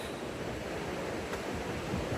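Cold snowmelt river rushing at a trail crossing, a steady broadband roar of flowing water with wind noise on the microphone, continuous and fairly close, no voices.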